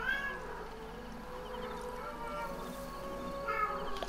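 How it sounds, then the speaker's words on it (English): Cat meowing inside the video game Assassin's Creed Origins, a few plaintive drawn-out mews over a soft game ambience, moderately close and without talk. "Shut up, stupid cat."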